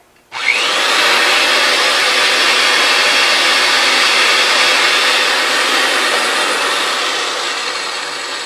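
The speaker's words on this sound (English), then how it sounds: "Now we're going to have to apply pressure with your carriage arm, lever arm, to actually ream that pipe out." A Ridgid 300 threading machine reams out a pipe, its motor and cutting tool starting abruptly and then holding a loud, steady, grinding whir that eases slightly near the end.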